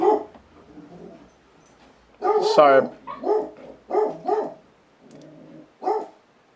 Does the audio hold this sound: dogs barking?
yes